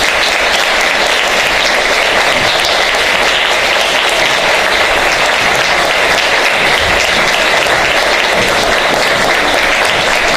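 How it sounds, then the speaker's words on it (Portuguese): Loud, sustained applause from an audience at a lecture held in a former Carmelite convent, welcoming the speakers with an even, unbroken roar of clapping that fills the whole stretch without talk. "vamos recebê-los com uma calorosa salva de palmas"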